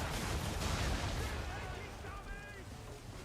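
Ship cannons fire during a naval battle in the video game Assassin's Creed 3, with loud, rumbling booms crowding the first second and a half, then a fading roar beneath shouting voices.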